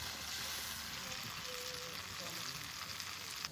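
A paste of ground cumin and coriander with pepper and dried chilli fries for a mutton curry, giving a continuous close sizzle with occasional stirring scrapes.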